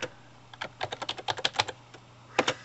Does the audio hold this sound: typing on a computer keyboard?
yes